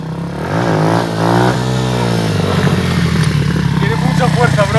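A motorcycle engine revs up and holds a strained, rising drone at close range, with a person talking over it throughout.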